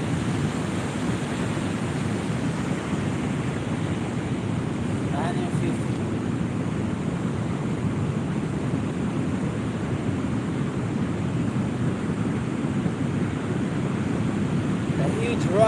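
Ocean waves wash over rocks in a steady, loud, broadband roar of surf that continues unbroken, with wind noise buffeting the microphone throughout.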